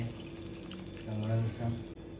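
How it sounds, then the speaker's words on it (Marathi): A little water is poured into a thick cooked masala for veg dum biryani, making a brief, soft splashing pour that swells for a moment at close range. "आता आपण मसाला होण्यामुळे आपण थोडंसं पाणी टाकून घेऊया, प्रमाणानुसार।"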